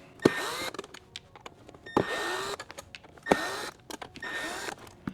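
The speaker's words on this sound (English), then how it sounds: "I'm going to use an installation driver here, and remove those screws" An installation driver backs screws out of an HMI panel in three separate short motor whirs, each under a second, close and fairly quiet, with light handling clicks between them.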